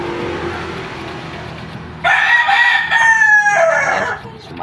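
A rooster crows once, loud and close, a long drawn-out call rising out of a low background hum.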